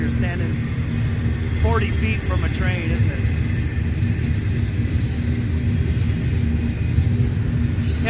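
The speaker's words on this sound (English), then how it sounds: "loud when you're standing 40 feet from a train, isn't it?" A train rolling past roughly 40 feet away near a bend on a cold day, a loud, steady, close rumble of wheels and cars with faint squeals riding over it for the whole stretch.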